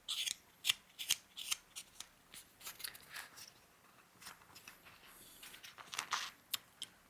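A carving tool cutting across the grain of scrap wood, giving quick dry scraping and rasping strokes in an uneven rhythm, close but quiet, with no talking.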